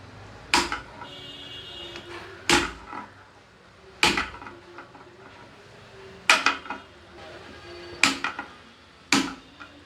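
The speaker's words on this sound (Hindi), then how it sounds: "तो उसके लिए आपको इस तरीके से मिक्सर पे चोट मारनी पड़ेगी" A mixer grinder body is struck by hand to loosen its coupler, six sharp metallic knocks spaced a second or two apart, each ringing briefly before fading, close and alone without talk.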